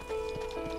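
Horse hooves clip-clop in the Red Dead Redemption video game, a few quick, fairly faint hoofbeats over a steady background tone.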